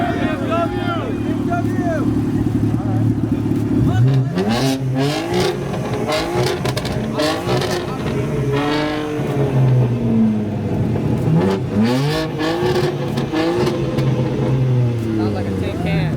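A BMW engine revs repeatedly in sharp rising and falling sweeps, loud and close, amid a crowd of people talking and cheering around it.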